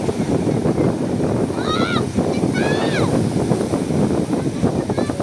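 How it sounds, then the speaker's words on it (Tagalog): Rough water from a passing typhoon surges and slaps continuously against a small boat, broadband roar close by, with shouting voices and wind gusts over the top. "Hampas-hampas na naman ang alon."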